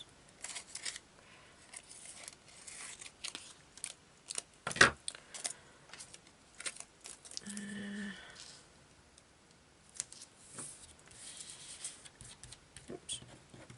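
Scissors trimming an altered playing card, scattered small snips and paper rustles with one sharper close cut, heard alone in a quiet room.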